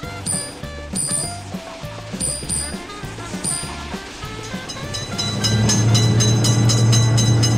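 Warning tones pulse in an even, repeating rhythm at a level crossing with a car gate, then a passing train takes over with a louder continuous rumble and steady humming drone in the final seconds.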